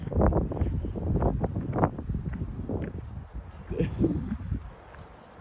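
A high wind storm under a high wind warning in Lewis Center, Ohio, roars in loud, continuous gusts that buffet the microphone, with voices faintly present in the mix.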